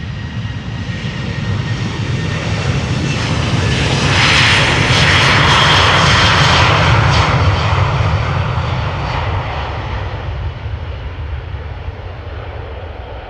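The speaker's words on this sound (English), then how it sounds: "Now taking off over here. KLM flight 1975, Boeing 737-700, destination Budapest." A KLM Boeing 737-700 takes off at Amsterdam Schiphol, its engines building to a loud, broad roar that peaks mid-run and then eases slightly as the jet climbs away, with no voices over it.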